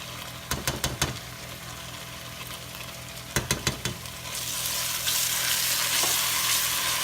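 A soup mixture goes into a stovetop pan of Cajun shrimp pasta, opening with two quick clusters of clattering knocks before a louder, steady sizzle and bubbling rises and holds to the end.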